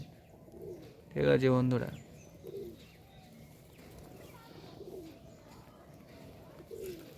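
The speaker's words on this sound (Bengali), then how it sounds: "তো দেখতেই পাচ্ছ কত কাছে চলে আসছে বন্ধুরা পায়রাগুলো" High-flying pigeons coo softly in short low bursts close by. Someone speaks briefly over them early on.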